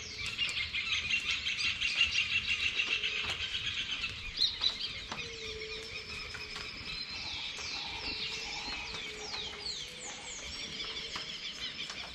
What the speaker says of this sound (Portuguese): O horário que mais tem passarinho é quando acorda, né? Que de manhã eles estão tudo ali, ó.